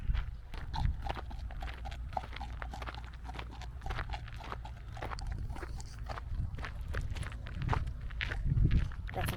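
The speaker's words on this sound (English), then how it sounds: "There's a horse." A horse walks along a countryside trail in the Peak District, its hooves clip-clopping in a steady, moderately close rhythm throughout, with faint rustle in the background.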